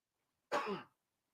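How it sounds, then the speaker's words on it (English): One short, sharp cough up close, then silence. "It's a great time for both of us to have a coughing fit."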